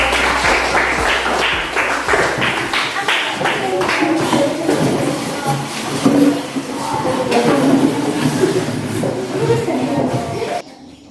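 Classroom students applaud at a teacher's performance-assessment lesson, a run of sharp claps giving way to a steady, dense patter under chatter and shuffling for about ten seconds before stopping abruptly.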